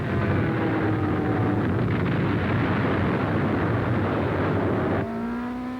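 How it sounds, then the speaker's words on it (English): A WWII medium bomber launches an aerial torpedo in a 1944 aviation newsreel, heard as a loud, steady, close engine roar with rushing wind that shifts to a lower, thinner drone near the end. "A medium bomber launching an aerial torpedo."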